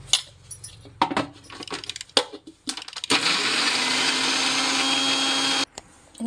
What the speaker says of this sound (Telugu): ఇప్పుడు ఇది గ్రైండ్ చేసుకోవాలి.